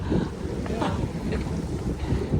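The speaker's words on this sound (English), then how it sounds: "Swinging around. Here comes the sail." A sailboat tacks in a stiff wind, with heavy gusting wind buffeting the microphone, water slapping against the hull and a few brief fluttering bursts as the sail swings across.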